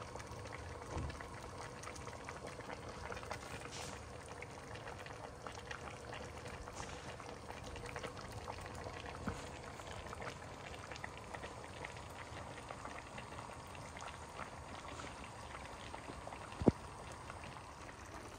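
A pot of dinner food on a gas stove boils in a soft, continuous bubbling simmer, fairly quiet and even, with one sharp click near the end.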